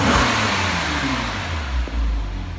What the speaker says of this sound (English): Should we rev the car so you can have a listen to the engine?